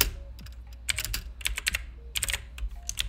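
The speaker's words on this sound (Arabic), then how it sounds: "الآن طبعا هنا أنا راح نكتب الموقع العراق" Typing on a computer keyboard, close and fairly loud, irregular bursts of rapid clicking keystrokes with short pauses between groups.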